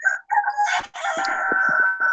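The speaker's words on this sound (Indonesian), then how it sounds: "ada ayam tuh, udah subuh tuh ya" A rooster crows at dawn, a loud, close, drawn-out cock-a-doodle-doo with a brief break partway through, followed by a few short clucks.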